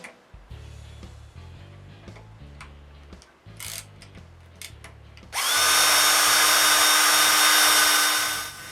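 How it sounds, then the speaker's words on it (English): Wood is drilled to take hanger bolts. Light tapping and handling clicks come first, then a loud, close power drill whines steadily for the last few seconds before winding down. "Then on this piece, I drill and screw hanger bolts."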